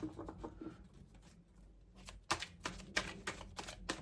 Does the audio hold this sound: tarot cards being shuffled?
yes